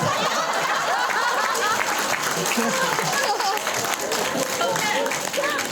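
An audience at an evening gathering claps steadily throughout, dense and sustained, with scattered laughter and voices mixed into the applause.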